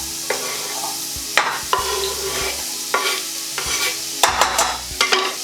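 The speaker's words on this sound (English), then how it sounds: "we'll put the onions straight into the saucepan" Onions sauté in a saucepan over medium heat. A steady, soft sizzle runs throughout, broken by several sharp scraping stirs.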